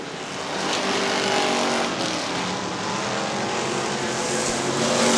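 Street stock race cars circle the high-banked dirt oval at Butler Motor Speedway, a dense roar of engines that swells and holds, loud and continuous with overlapping motors and no voices.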